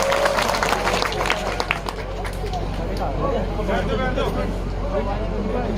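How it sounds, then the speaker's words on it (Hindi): Loud, sustained applause and cheering from a large crowd at a live public gathering welcoming a speaker, dense clapping and crowd noise running continuously throughout. "जोरदार तालियों के साथ इनका स्वागत करें।"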